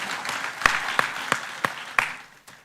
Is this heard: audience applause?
yes